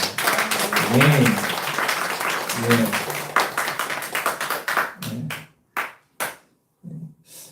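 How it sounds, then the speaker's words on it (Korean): A church congregation at a Thanksgiving Sunday service claps and applauds in a dense burst with a few voices mixed in, then the clapping thins to scattered claps and dies away. "큰 박수로 영광을 돌리겠습니다"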